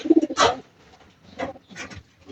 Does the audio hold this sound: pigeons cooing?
yes